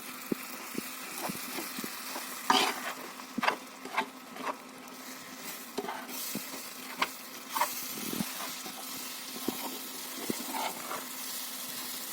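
Flour roasting in a hot pan sizzles quietly while a spoon scrapes and taps irregularly as it is stirred, with no talking.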